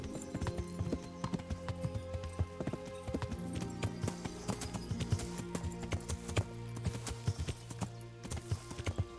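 A horse gallops in the medieval game Kingdom Come: Deliverance, its hooves clip-clopping in a quick, steady rhythm, close and clear, with a brief whinny and faint background game sounds.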